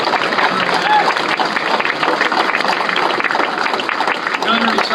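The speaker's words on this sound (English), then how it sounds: "I want to give Commander Westhill another round of applause for opening up" Crowd applause for Commander Westhill at a Vice President's event, sustained dense clapping from a large audience with voices and murmur mixed in throughout.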